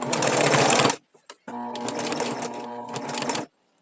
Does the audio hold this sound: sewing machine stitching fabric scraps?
yes